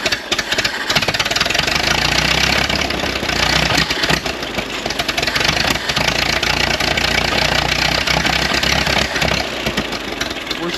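An abandoned 1929 Doodlebug engine runs after years of sitting, a loud continuous rough idle with uneven knocking pulses and occasional backfire pops through the steady drone.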